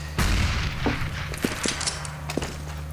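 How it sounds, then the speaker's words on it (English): M4A1 rifle spray in Counter-Strike: Global Offensive during a Cloud9 versus NiP esports match, a dense burst of gunfire up front followed by scattered shots and thuds in the game's background. "There goes the spray from the M4."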